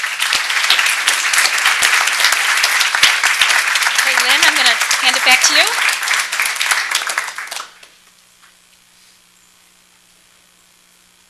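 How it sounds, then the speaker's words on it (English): Steady applause from a crowd at a Board of Education meeting fills the room for several seconds, with someone speaking briefly over it before the clapping quickly dies away to quiet. "I'd like to just ask everyone to give you a round of applause"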